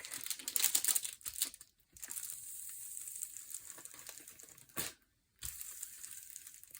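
Release paper peeled back from a canvas: close crinkling and papery rustles in uneven bursts, separated by brief silent gaps, fairly quiet with no voices.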